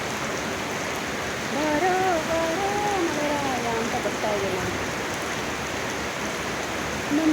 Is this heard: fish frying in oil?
no